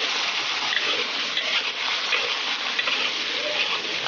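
Garlic frying in a wok alongside pickled chilies, pickled mustard greens and hotpot base, giving a steady, close sizzle and hiss that holds evenly throughout.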